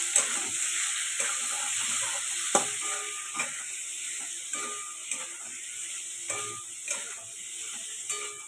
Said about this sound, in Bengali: ভালো করে কষাতে থাকবো।